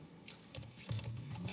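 Keys clack on a computer keyboard as a flow name is typed: a brief, uneven run of soft taps at close range, with no talking.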